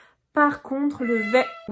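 A house cat meows loudly and close by in a long, drawn-out call with a clear tone. Someone speaks French in the same moment.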